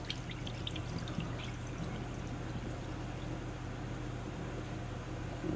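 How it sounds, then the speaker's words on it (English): Rice is rinsed by hand in water before cooking in a rice cooker, with a soft, steady sloshing and trickle of water that runs unbroken at close range and moderate level. "Rinse it slowly so that the rice doesn't come out."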